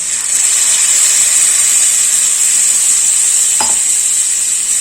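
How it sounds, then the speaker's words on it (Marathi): Ground masala paste stir-fried in hot oil for a fasting-style misal, a loud steady sizzle with bright hiss throughout and one brief scrape of the spoon near the end. "आता मी हे वाटण व्यवस्थित परतवून घेते।"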